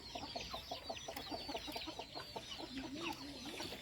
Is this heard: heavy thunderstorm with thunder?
no